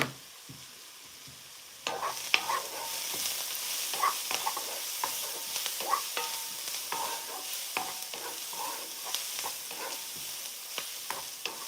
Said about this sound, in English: it's simply just going to be me mixing the onions and the garlic.